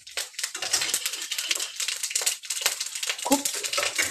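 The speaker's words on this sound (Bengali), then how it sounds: "সর্ষে ফোড়ন দিয়ে দিলাম" Whole mustard seeds and a dried red chili splutter in hot mustard oil, with dense, close crackling and sharp popping bursts throughout and no voices.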